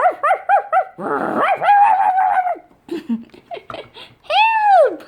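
A voice imitates a small dog barking and snarling, giving several quick yapping barks, then a long drawn-out snarl and a final rising howl-like growl, close and loud.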